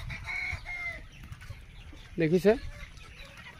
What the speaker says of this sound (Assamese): ইয়াতো 1500 মুৰ্গী এতিয়া বৰ্তমান আছে